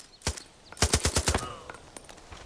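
A gun fires in the Far Cry 5 video game: one shot, then a rapid burst of about six shots in quick succession, followed by fading echo.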